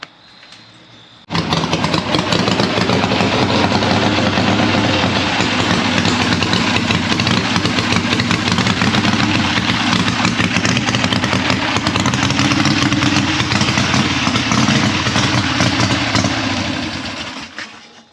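An old motorcycle engine fires after a second of near quiet and then runs loud and rough for about sixteen seconds, a steady buzzing idle that fades slightly at the end.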